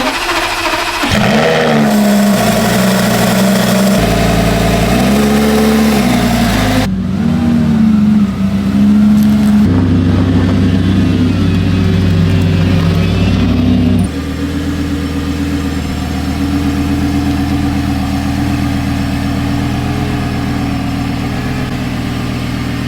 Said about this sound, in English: this is gonna be a cold start on a 2008 Superleggera